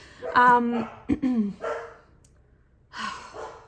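Dogs bark and yip a few times in quick bursts, moderately close, then a brief pause before another short bark.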